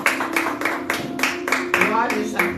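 A church congregation claps in praise during a service, a run of evenly spaced loud claps with a voice speaking over them.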